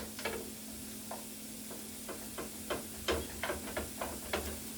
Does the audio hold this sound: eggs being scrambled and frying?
yes